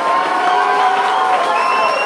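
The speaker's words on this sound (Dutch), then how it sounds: "Applaus." A crowd at a local pop competition round cheers, whoops and claps loudly right after a band's set, a dense wall of voices and applause throughout.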